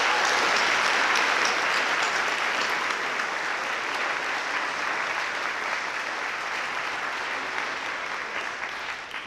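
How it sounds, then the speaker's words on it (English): Loud, sustained applause from a large crowd at a high school senior awards ceremony, dense clapping that holds steady and then slowly tapers toward the end. "Let's give them a round of applause."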